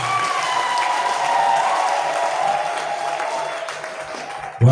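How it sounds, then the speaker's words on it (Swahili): Congregation applauding during a Swahili church worship service, a broad steady wash of many hands clapping at once, fairly loud and continuous, with music-like tones underneath. "Ongeza makofi mengi kwa Bwana."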